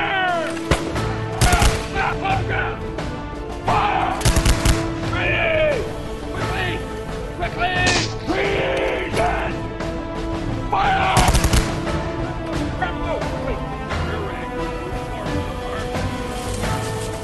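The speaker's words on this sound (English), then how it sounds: "As soon as that shot was fired, both sides commenced firing at will" Musket fire between militiamen and British troops at the start of the American Revolution: a dense volley of sharp shots and crashes, scattered and overlapping, with shouting voices and a narrator speaking over it.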